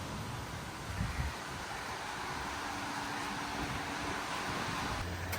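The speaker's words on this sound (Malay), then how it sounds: "Kuat angin." Strong wind blows across an outdoor poolside at a condo, a steady, loud rush buffeting the microphone for the whole stretch, with no voices.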